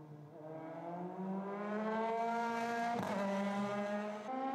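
A Euroformula Open single-seater race car laps the Barcelona circuit during qualifying, its engine rising in pitch through the gears with a brief shift blip, loud and steady, heard from a fixed trackside position.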